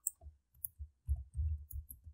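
Keystrokes on a computer keyboard, a short burst of about a dozen soft, close clicks in quick irregular succession, quiet and alone.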